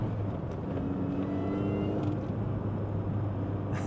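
A Mini's engine builds up revs in a steady, rising drone, heard alone and fairly close with no talk.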